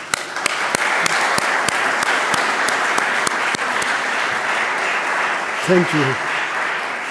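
A mosque audience at a live-streamed gathering applauds, with loud crowd clapping and distinct sharp claps that fade after a few seconds into a hushed room, followed by a brief spoken voice near the end.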